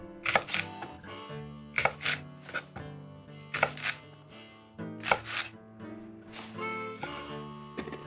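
Sharp knife chops through green onion against a cutting board in short clustered bursts, with quieter handling sounds and background music between strokes.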